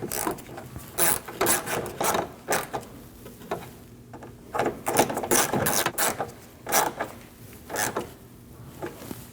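Hand ratchet tightening liftgate support bracket bolts on a 2003-2008 Subaru Forester, with repeated bursts of rapid metallic clicking close up, pausing between strokes.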